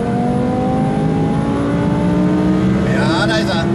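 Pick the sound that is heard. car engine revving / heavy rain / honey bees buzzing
car engine revving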